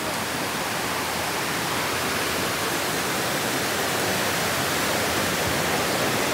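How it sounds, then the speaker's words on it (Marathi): Water rushes steadily at a waterfall in the Konkan region, a dense, continuous broadband roar that stays loud and unchanging throughout, with no voices over it. "पाणी वाहत आहे"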